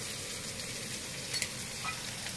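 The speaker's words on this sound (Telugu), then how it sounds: "ఉల్లిగడ్డ అప్పుడు కరెక్ట్గా వేగుతుంది." Onions fry in a pan with turmeric and a teaspoon of salt, giving a continuous, faint, even sizzle heard close up for a couple of seconds, with no voices.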